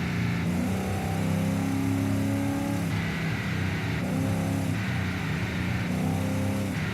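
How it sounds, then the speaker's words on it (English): A Ford Cleveland 305 V8 engine in an Australian-made car runs steadily and loudly, a deep throbbing idle with rhythmic swells of revving, close by and alone without talk. "This car is powered by a Ford Cleveland 305 V8."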